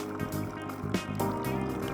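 A Nescafe Dolce Gusto Piccolo coffee machine rinses during descaling, a close, steady pump hum with running water and faint gurgling, no voices.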